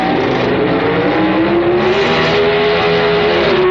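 Drag racing cars, including the American Motors car driven by Andy Manarino and Lombardo's car, launch off the starting line at the 1978 NHRA Summernationals with a loud, sustained engine roar that climbs steadily in pitch.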